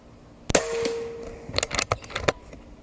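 Umarex Origin .25 PCP air rifle fires a single sharp shot with a short ringing tail, followed by a few quick metallic clicks and clanks nearby.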